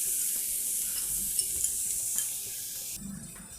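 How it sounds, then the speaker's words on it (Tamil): Grated carrot, about a quarter kilo, sautéed in a pan: a continuous bright sizzle with steady scraping and stirring of the spoon, close and moderately loud, easing off slightly toward the end. "இதை நல்லா வதக்கிடலாம்."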